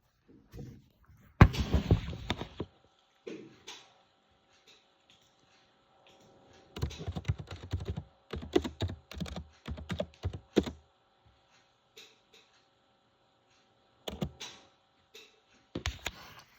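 Computer keyboard typing in scattered bursts of quick clicks, close and clear, separated by stretches of near silence.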